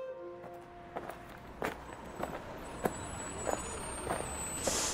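A bus sound effect for a Bengali audio story: an idling vehicle rumble with repeated sharp hiss-like bursts and clicks, steady and moderately near, with no talk.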